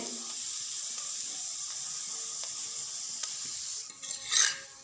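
Spinach paratha frying in oil in a pan on a stove, a steady soft sizzle running throughout with a brief louder crackling flare near the end; no talking.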